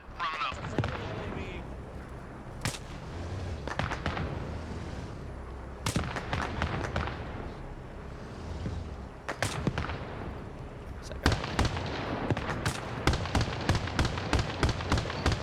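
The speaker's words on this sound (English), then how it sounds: "Friendly autocannon to our south, and additional friendly forces are coming up." Autocannon fire in the Arma Reforger battle game, sharp repeated shots coming in bursts and scattered single cracks, some close and loud, others more distant, over a low background rumble.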